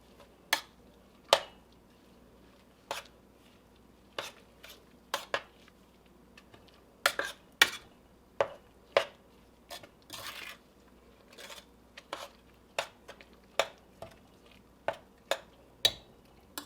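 Spoon scraping and clinking against a pot while sugar is stirred into green tomato relish with vinegar, sharp irregular clinks spaced a second or so apart, close and alone with no talk.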